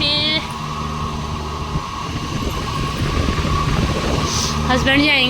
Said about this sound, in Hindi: कूलर की आवाज़ आ रही है गाइस